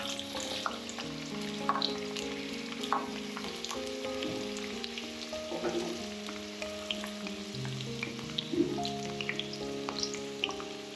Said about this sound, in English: I'll fry the onions till they are browning.